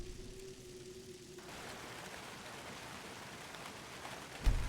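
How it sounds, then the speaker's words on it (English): Rain falls on a slightly leaky roof as a faint, even patter of diffuse drops, soft and distant, with a brief low thump near the end. "that's rain on my slightly leaky roof"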